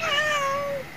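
A single clear cat meow, loud and close, a drawn-out tonal call that slides gently downward and fades off near the end, with nothing else heard.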